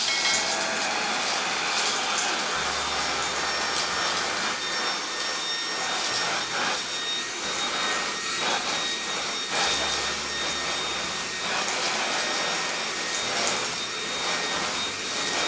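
A Eureka RapidClean Pro vacuum cleaner runs steadily in handheld mode with no attachments, a loud, continuous whooshing motor roar with slight low hum shifts throughout.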